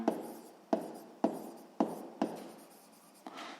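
Pen writing by hand on paper during a sixth-grade maths exercise, close scratchy strokes in a regular rhythm with sharp taps roughly every half second, no talk over it.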